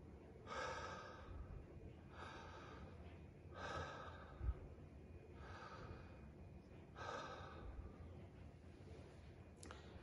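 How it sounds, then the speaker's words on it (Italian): Slow, deep breaths in a guided breathing exercise, about five long airy inhale-exhale cycles spaced a couple of seconds apart, close to the microphone in a quiet room. "dopo aver fatto questi tre respiri"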